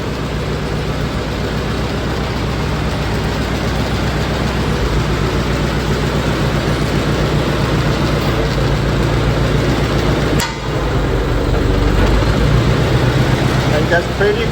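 A Massey Harris 22 tractor with a 3-point hitch, engine idling in a steady, loud, continuous rumble close by, with speech over it.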